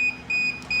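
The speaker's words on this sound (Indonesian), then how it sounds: "Maka buzzer akan menyala 3 kali dengan pola itu dan servonya akan tetap tertutup" A buzzer on an IoT smart gate sounds three electronic beeps in a steady on-off pattern, flagging an invalid NFC card. The tones are loud and close, with no talk over them.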